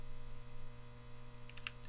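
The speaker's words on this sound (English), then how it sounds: "you can still hear the hum, right?" A neon light in a Unity game scene gives off a steady low electrical hum, faint and continuous, with a few small clicks near the end and no talk.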